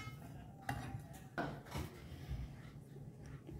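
A spoon or spatula scrapes and knocks against a pot while a cornflour and strawberry dessert mixture is stirred over a low flame, with a few clinking strikes and continuous faint scraping, close by and moderately quiet.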